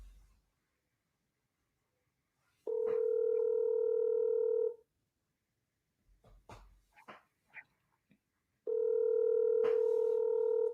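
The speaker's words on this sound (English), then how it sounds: "His phone's not dead because it's ringing." A phone call rings back over the line, two long steady ring tones a few seconds apart, with a few faint clicks and bumps between them.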